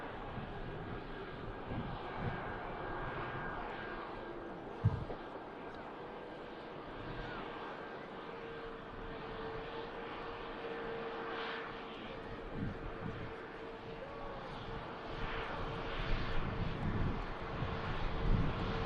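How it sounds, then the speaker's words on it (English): Malta Air airliner taxiing out at Manchester Airport, a steady jet engine rumble and whine that holds throughout and swells slightly toward the end, with a brief thump near the start and commentators' voices around it. "Malta Air then on the taxi out as well."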